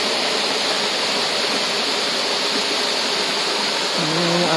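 Curug Cilengkrang waterfall, a short cascade over stacked stones, giving a steady, dense rushing hiss of falling water, close and constant, with a brief voice at the end.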